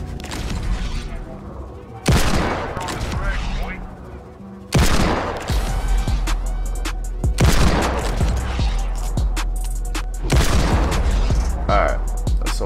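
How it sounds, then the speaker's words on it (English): Rapid bursts of Desert Eagle pistol fire ring out in a video game aim training map, shots coming in clustered volleys with brief pauses between them, loud and close throughout. "I use the Deagle for this part just so I can, you know, free shoot"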